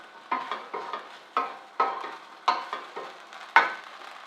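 Pasta being stirred in a pot coated with olive oil for a pesto dish, with a series of about nine scraping, sloshing strokes in an uneven rhythm, close and moderately loud, with no voices.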